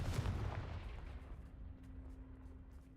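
A Confringo fire spell cast in Hogwarts Legacy bursts as a loud, close blast that fades into a rumbling tail, with a faint steady tone lingering underneath.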